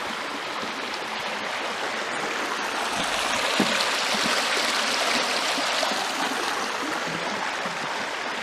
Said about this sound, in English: And we keep coming across creeks, but this is more of a river.